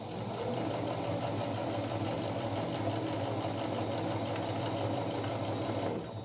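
Sewing machine stitching strips of fabric for a rag rug, including a backstitch, a fast continuous mechanical whirr and clatter running steadily for several seconds at close range, no talking.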